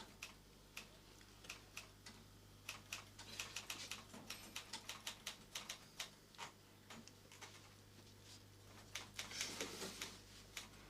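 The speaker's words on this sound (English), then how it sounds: "the sound of typing didn't stop" Typing from another room comes through as faint, irregular clacking keystrokes in quick bursts over a low steady hum.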